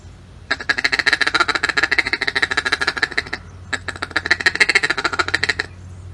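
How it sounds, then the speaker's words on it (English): A group of feeding mallard ducks gives a rapid, chattering feed call, two long runs of fast, evenly pulsed quacks separated by a short pause, loud and close with no talking. "when you get a lot of mallards together feeding, it's a little crazier, a little more rapid, and it sounds a little something like this"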